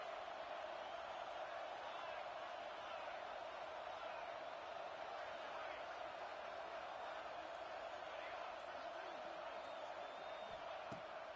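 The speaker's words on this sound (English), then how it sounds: "This crowd bringing the energy and noise early." Football stadium crowd at an Oregon college game, a steady broad roar that holds at one level without letting up, loud and filling the whole space, with no single voice standing out above it.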